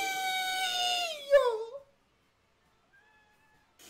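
A cat lets out a long, drawn-out meow that bends downward in pitch, close and clear, followed by a faint shorter mew after a pause of silence.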